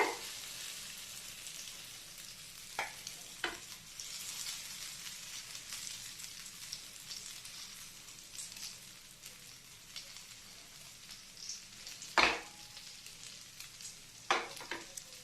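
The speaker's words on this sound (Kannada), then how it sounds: "ಇದು ಲೋ ಫ್ಲೇಮಲ್ಲಿ ನಾವು ಫ್ರೈ ಮಾಡಬೇಕು." A breakfast dish frying on low flame in a pan, a soft continuous sizzle with occasional sharper pops and clinks of a utensil scattered throughout, quiet and close.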